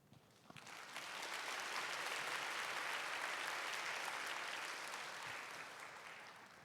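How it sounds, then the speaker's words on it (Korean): A church congregation bursts into applause during a worship service to welcome a visiting missionary: the clapping swells after a second, holds as a broad, even roar of many hands, then tapers slightly at the end. "일어나서 인사하실 때 큰 박수로 환영해 주시길 바랍니다."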